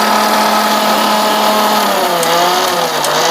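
Mixer grinder running continuously as it grinds leaves with no water added, a loud steady motor whine with a slight drop in pitch toward the end.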